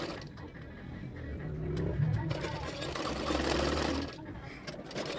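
A sewing machine runs in a steady whirring stretch while stitching small pleats into a blouse's back neck, with someone speaking over the machine.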